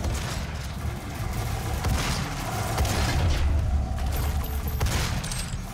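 Gunfire and explosions fill combat in the video game DOOM, a dense, loud, continuous barrage with heavy booms and rattling shots. No one speaks.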